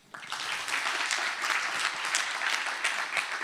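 An audience at an awards ceremony for inventors breaks into applause, a dense patter of many hands clapping steadily for a few seconds, moderately loud and without speech.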